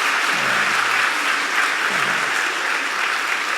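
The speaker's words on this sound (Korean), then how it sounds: "박수 한번 하죠." An audience in a Presbyterian church applauds during a Sunday evening service, a dense, steady wash of clapping that continues for several seconds.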